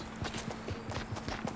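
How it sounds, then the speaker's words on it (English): Footsteps creep across a hard surface in a video game, a series of soft, evenly spaced thuds close by, quiet and steady with no talking over them. "I hear like creeping footsteps, I think."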